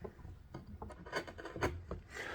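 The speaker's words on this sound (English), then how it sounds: "I removed some more material with a chisel." Short scraping and rasping strokes of a chisel paring scrap wood, irregular and close, fairly quiet with brief bursts.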